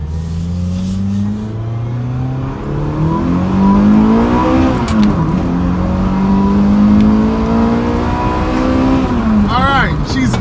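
A Toyota Celica engine revving hard while driving, pitch climbing steadily through the gears into VTEC lift with a sharp rising whine, loud and continuous, with brief drops between shifts.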